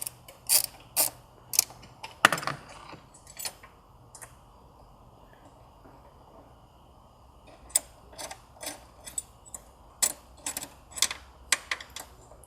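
A socket and extension ratchet a nut into place on a VW MK7 GTI catch can, sparse sharp clicks in short bursts separated by a long quiet gap, close and without talk.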